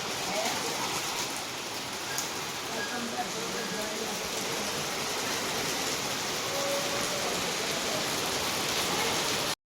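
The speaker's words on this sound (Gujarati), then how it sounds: "આટલો બધો વરસાદ આવે છે." Heavy evening rain pours down steadily in a dense, continuous hiss that fills the whole stretch, loud and close, with a little faint talk underneath.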